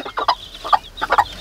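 A farmyard chicken clucks in several short, close bursts grouped in pairs, loud and clear with no talking over them.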